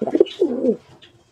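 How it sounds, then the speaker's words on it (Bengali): A pet pigeon perched on a hand gives a short run of soft, low cooing notes close by, then falls quiet, with no talking. "আমার কাঁধে হচ্ছে রকি, দেখো হাতের উপর উঠে ডাকাডাকি শুরু করে দিয়েছে।"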